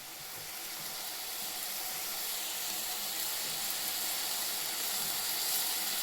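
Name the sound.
turkey berries frying in ghee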